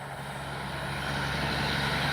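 Engine of a B-25J warbird radio-controlled model airplane running, a steady droning buzz with a constant hum, growing slightly louder over the couple of seconds, no voices over it.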